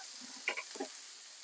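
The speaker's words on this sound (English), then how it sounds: "The second batch always seems to cook better, probably because the pan's really hot." Moroccan meatballs fry in a very hot pan, giving a faint steady hiss and sizzle with a few soft pops and light stirring clicks close by.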